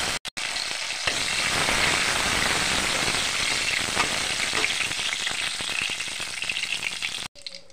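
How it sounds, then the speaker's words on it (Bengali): Nuts and raisins frying in hot oil in a wok for chilli chicken rice, a dense, steady sizzle and crackle running loud and close for several seconds, with a brief stir partway through. "কড়াইতে আমি তেল দিয়ে দিয়েছি। যেহেতু আমি চিলি চিকেন রাইস করব, তার জন্য আমি বাদাম আর কিশমিশগুলি ভেজে নেব।"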